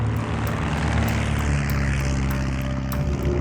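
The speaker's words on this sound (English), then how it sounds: "378 bombers took off from their bases." Propeller drone of a WWII American bomber taking off, a steady, loud engine roar holding throughout with no speech over it.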